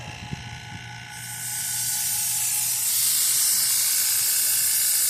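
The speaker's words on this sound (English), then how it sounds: "I hear a bunch of freon coming out of the low side." After a few faint clicks, a loud, steady hiss of freon refrigerant from the low side of an AC line starts up and keeps rushing without a break, growing slightly stronger.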